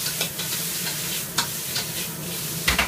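Onion, green pepper and carrot stir-fry in a hot wok, a close, steady sizzle broken by several sharp bursts as the utensil tosses and scrapes the vegetables.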